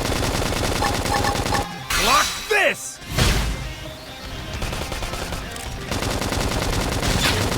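Rapid bursts of gunfire in the video game Xenoblade Chronicles X Definitive Edition, mixed with crashing impacts and a shouted voice, loud and chaotic throughout.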